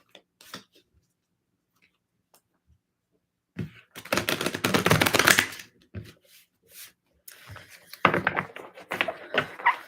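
A deck of tarot cards is shuffled by hand in two crisp, riffling bursts, close and clear, with quiet pauses between and brief soft speech.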